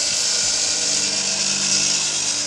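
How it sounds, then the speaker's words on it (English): Woodworking power tool running steadily, a loud continuous high-pitched whine, like a drill or saw, close by with no talk. "I like to do woodworking and metalworking and work with power tools."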